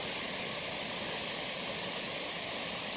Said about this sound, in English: Right down there's the creek, so I mean you can get water out of that too.